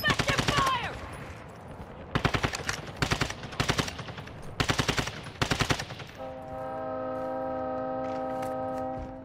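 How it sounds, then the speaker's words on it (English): Bursts of automatic gunfire from a military shooter video game ring out in several rapid volleys, loud and close, followed by a steady tonal electronic hum. "Taking effective fire."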